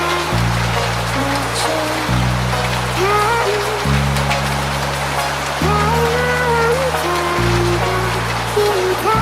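Rain falls steadily, a continuous even hiss of drops that runs throughout, with low music playing alongside.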